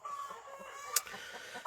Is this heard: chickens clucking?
yes